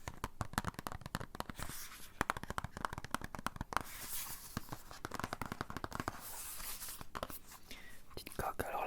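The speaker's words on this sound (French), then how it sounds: "J'ai envie d'ouvrir ma coque pour l'instant pour commencer." Opening a phone case for an iPhone 13, with close, quiet plastic clicks, scrapes and rustling handling sounds in an ASMR setting, under soft whispered talk.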